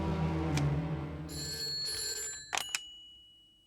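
A telephone bell rings for about a second and a half during a tense police-film climax scene. The trilling tone sits over a low, rumbling music bed and ends with a couple of sharp clicks.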